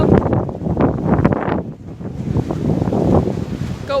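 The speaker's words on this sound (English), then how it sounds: "It's pretty windy, propeller's going pretty swell." Strong gusting wind buffets the microphone near the Brooklyn wind turbine in Wellington, a loud continuous roar that swells and dips without pause and with no talking.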